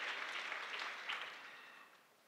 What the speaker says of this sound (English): Please clap your hands for her.